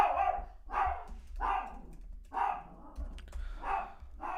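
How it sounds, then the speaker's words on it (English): A dog barks about six times in an uneven rhythm, each bark sharp and moderately loud, over a low steady indoor hum, with no one talking. "The dog is barking."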